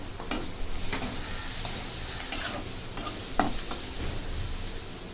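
Turmeric and cumin powder roast in a hot pan, a soft continuous sizzle broken by several sharp scraping stirs of a spoon against the pan, close and with no voices.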